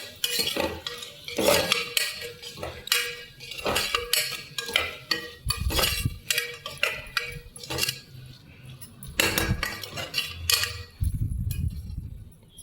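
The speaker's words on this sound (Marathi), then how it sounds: "कोबी घातल्यावर परत एकदा छान असं व्यवस्थित परतून घ्यायचं याला" Chopped cabbage is stirred and sautéed in a pan, with a spatula steadily scraping and clinking against the metal in a continuous rhythm, close and fairly loud, with no talking.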